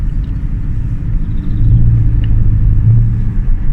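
Deep, steady rumble from the 5.7-litre Hemi V8 of a 2005 Chrysler 300C, a continuous low throb that swells slightly midway and holds loud and close with no voices over it.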